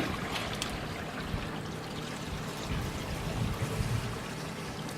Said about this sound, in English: And that's the sound of an excessively full black tank.